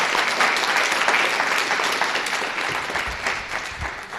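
A steady, dense round of applause from an audience at an academic programming-languages conference session, sustained and fairly loud from start to finish.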